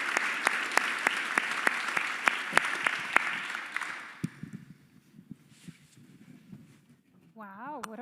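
An audience at a teacher of the year awards program applauds with sustained clapping and sharp individual claps, then it fades out to quieter murmuring and rustling, with a voice speaking at the end.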